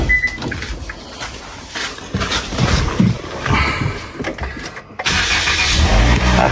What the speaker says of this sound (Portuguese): ligar aqui o carro.